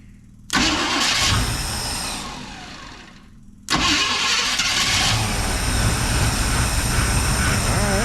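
An abandoned square-body Chevrolet C10 pickup with a dirty carburetor cranks and catches loudly, runs briefly, then sags before cranking and firing again into a rough, steady run close up.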